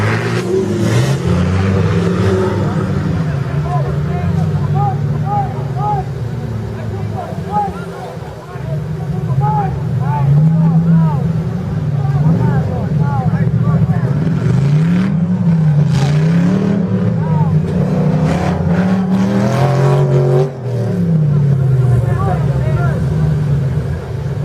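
4x4 trial off-road cars rev their engines at a national championship race in Chaves in 2016, the engine note rising and falling steadily throughout while people talk nearby.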